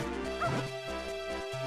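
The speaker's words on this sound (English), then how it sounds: "Woof. Oh, dog's in the way." A dog in The Legend of Zelda: The Minish Cap barks once, a short chiptune yelp. It is heard over steady looping game music.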